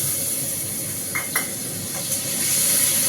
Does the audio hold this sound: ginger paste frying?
yes